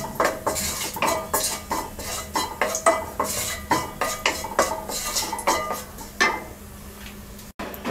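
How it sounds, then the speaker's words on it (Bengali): Half a teaspoon of nigella seeds and a torn bay leaf hit hot oil in a pan for a Bengali poppy-seed egg curry, giving steady clinking, scraping stirs over a faint frying hiss, close and with no talk. "এবার এই তেলে আমরা দিয়ে দিচ্ছি হাফ চা চামচ কালো জিরা, একটা তেজপাতা ছিঁড়ে দিয়ে দিচ্ছি।"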